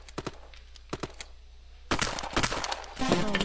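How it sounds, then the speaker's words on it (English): Rapid gunshots from the egg-themed shooter game Shell Shockers, a few sharp isolated shots early on, then a dense burst of overlapping fire building louder toward the end. "Oh, you're gonna shoot me again"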